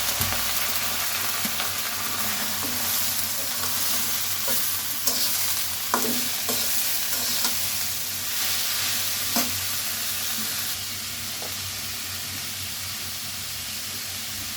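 Dal and potatoes added to frying onion and garlic in a pan, a loud steady sizzle with repeated scraping stirs and occasional clinks, up close, without talk.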